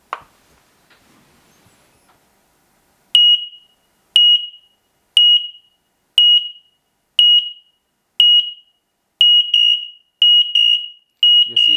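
X-Sense smoke and carbon monoxide alarms sound a loud, piercing test beep in evenly spaced bursts, about nine in a row, with a faint click before they begin.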